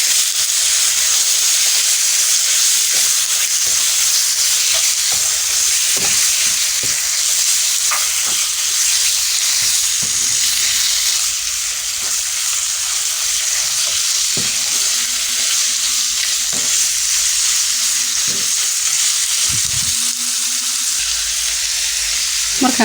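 Diced liver and kidney sizzle steadily with onions in a hot pan, a loud continuous frying hiss with occasional scrapes and stirring knocks throughout, no voices.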